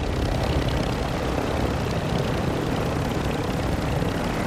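A helicopter in Call of Duty: Modern Warfare II, a loud continuous rotor and engine roar with dense broadband wash, steady and close throughout with no talk over it.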